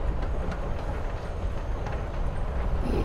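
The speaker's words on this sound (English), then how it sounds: "You're on a freaking train with Rachel freaking Amber" Train ride in the video game Life is Strange: Before the Storm, a steady rumbling rail carriage with faint rhythmic clacks, continuous and moderately loud, with no voices.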